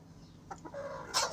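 Chickens and feather-footed chicks cluck in a coop, giving a few short close calls and one brighter squawk near the end over a quiet background, with no voices.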